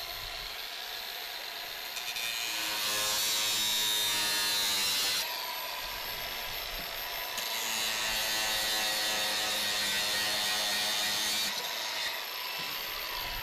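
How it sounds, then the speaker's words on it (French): Grinder cutting a roof drain fitting to size with wood placed underneath to protect the EPDM roofing, a loud continuous abrasive whir and grind close by that rises and falls in pitch across several passes. "notre pièce d'évacuation que nous meulons sur mesure avec la meule"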